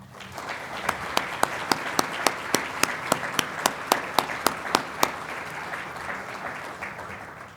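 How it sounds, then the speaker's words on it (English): An audience at an annual meeting breaks into sustained applause, a dense wash of clapping with one nearby pair of hands striking loud, evenly spaced claps through the first two-thirds before the applause gradually softens. "giving them all a huge round of applause"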